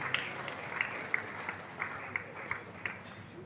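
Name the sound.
audience applause at an investiture ceremony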